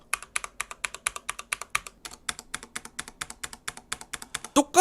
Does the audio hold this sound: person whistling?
no